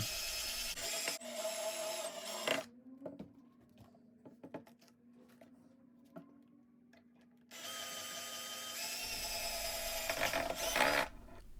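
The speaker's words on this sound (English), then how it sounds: "And tightening it with a drilling machine." A power drill whirs in two loud bursts driving a wood screw, separated by a quieter stretch of faint knocks and handling noises.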